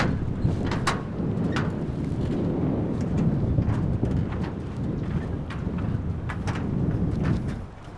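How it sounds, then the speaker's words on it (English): Strong wind gusting over a boat on the Umngot river at Shnongpdeng, a steady broad rushing roar with buffeting across the whole stretch, loud and continuous with no talk. "it wobbles and it's pretty windy"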